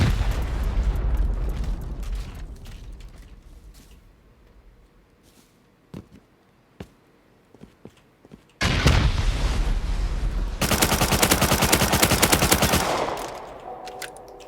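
Gunfire and explosions during a solo base raid in a survival video game: rapid automatic bursts and booms, with a quieter stretch of scattered single shots before loud sustained firing resumes, close and dense.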